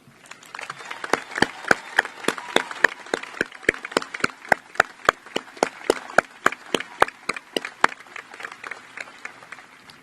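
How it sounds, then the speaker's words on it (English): Audience clapping at a high school graduation ceremony in Crown Point, a dense, steady patter of many hands filling the hall, sharp individual claps standing out over the crowd for the whole stretch. "Please stand for applause."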